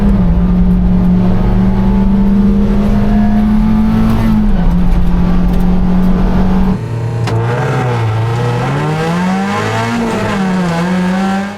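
Race car engine at full throttle during a race, a loud, sustained near drone from onboard that holds steady, then drops and swoops through gear changes and revs with another car audible nearby.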